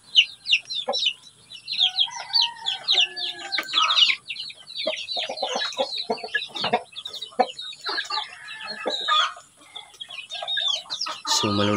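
Native and PBR-Brahma crossbreed chickens cluck and chatter busily in a small backyard coop, close and lively with overlapping calls throughout.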